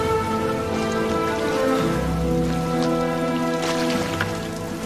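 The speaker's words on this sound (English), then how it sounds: "It's pissing it down." Heavy rain pours down on a bare, rocky island, a dense steady hiss with scattered patters and drips throughout, loud and close, with no voices over it.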